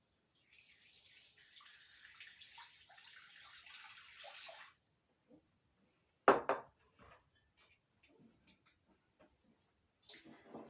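Water poured into a foam-free flower arrangement during a flower-arranging demonstration: a faint, soft trickling for a few seconds, then quiet, one sharp knock and a few small clicks and splashes.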